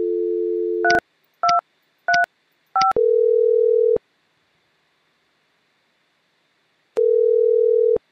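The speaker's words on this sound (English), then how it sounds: "Dial Maria's extension 3235." Several short touch-tone beeps play as an extension number is keyed on a Mitel 5312 IP phone, four quick evenly spaced tones, then a steady ringback tone that stops and returns after a pause, loud and clean.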